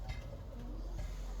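Pigeons coo at a dovecote, soft close murmuring calls repeating over a low background hum with no voices.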